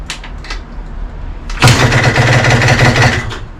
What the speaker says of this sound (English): it is time to start this thing, see if it actually starts